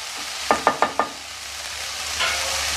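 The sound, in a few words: tomatoes sizzling and being stirred in a pan with garlic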